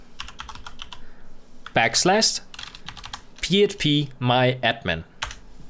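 Fast clicking keystrokes on a computer keyboard type an address into a browser, first alone and then continuing in bursts between a man's spoken remarks.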